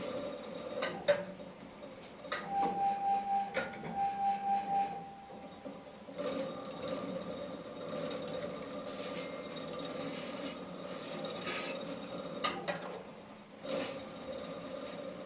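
Coil winding machine wrapping copper wire onto a BLDC fan kit, a quiet steady whirring hum with intermittent clicks and metallic taps, brief tonal whine near the start, running alone without talk.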